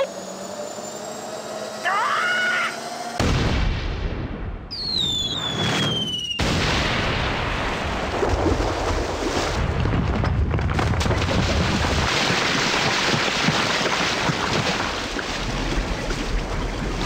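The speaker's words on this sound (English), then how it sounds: "Let's just fire the cannon." Two heavy cannon booms in the PC game The Neverhood burst out a few seconds apart, each followed by a long rumbling roar of noise.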